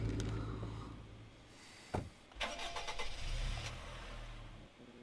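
A car engine cranks and catches, then settles into a steady running rumble, close and alone with no voices.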